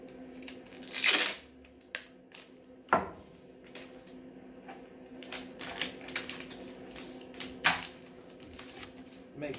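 Masking tape is ripped in a few sharp bursts and pressed onto a screen printing screen, with quieter crackles and taps of smoothing between the louder tears, close by.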